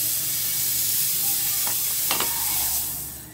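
Margarine melting in a heated pan for a no-bake macaroni dish, a steady close sizzle with a few brief scraping stirs that fades slightly at the end.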